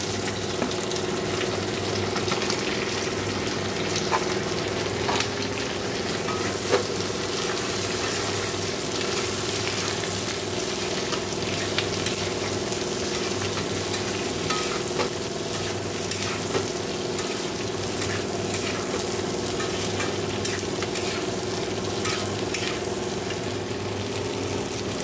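Capsicum and onion frying in a pan for fried rice and chilli chicken, a steady bright sizzle running throughout with occasional stirring scrapes and clicks.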